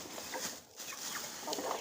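Backyard chickens clucking softly while being fed vegetable peels and kitchen scraps, a steady low murmur of clucks and rustling, close but faint, with no talking.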